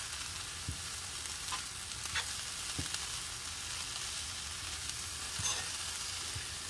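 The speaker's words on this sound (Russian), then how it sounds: "Вот, сейчас это жарится, я добавляю чеснок порезанный, 3 зубчика." Three cloves of chopped garlic sizzle in a frying pan alongside burdock and nettle stems, a steady close hiss broken by a few soft taps of stirring, with no talking.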